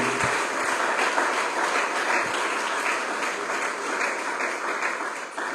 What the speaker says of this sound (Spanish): Dale ofrenda de palmas al Creador.